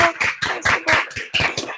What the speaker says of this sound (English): we can give a quick round of applause if everyone would like to unmute